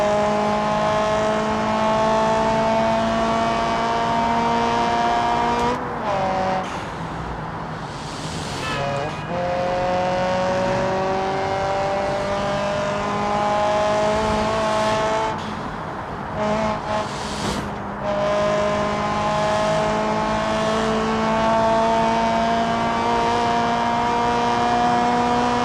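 Race cars roar through a BeamNG video game session, a steady high engine drone that revs and shifts with brief tire squeals and skids, loud and continuous with no talk.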